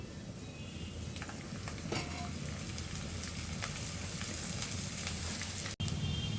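Garlic frying in oil in a pan for a fish and taro dish gives a continuous, close sizzle with a few light stirring scrapes and occasional soft clatters, and no one speaks.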